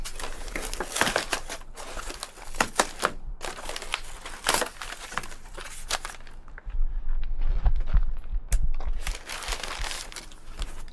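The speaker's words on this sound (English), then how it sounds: "Don't need shears, because the box is stapled. Just gotta rip the box open." Cardboard being torn open by hand from a stapled shipping box holding Victory 4x4 Molle panels, close and loud, with repeated crackling rips and crumpling, a heavier tearing burst near the end.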